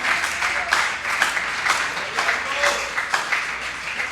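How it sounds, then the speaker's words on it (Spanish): A church congregation applauds steadily during a Spanish-language sermon, the clapping dense and sustained at moderate distance with bursts of louder claps and faint voices mixed in. "Dele ese aplauso al Señor."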